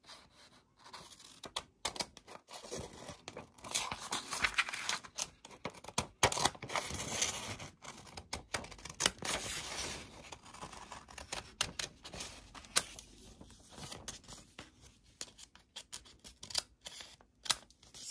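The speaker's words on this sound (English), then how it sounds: "And then we need to get scissors, and we would need to cut this side," Scissors snip and slide through paper while a corner bookmark is being made, giving quiet, close, irregular cutting and rustling with a few sharper clicks.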